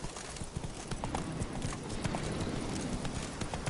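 Horse hooves gallop in quick, steady clip-clop beats in The Witcher 3: Wild Hunt, close and continuous across the moment, with a faint hint of snorting and no clear talk.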